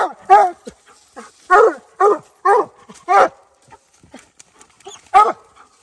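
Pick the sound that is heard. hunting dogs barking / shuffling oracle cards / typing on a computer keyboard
hunting dogs barking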